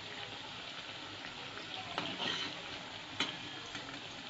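Noodle pakoras deep-fry in hot oil with a steady, soft hiss of bubbling that runs throughout, broken by a couple of brief crackles and pops.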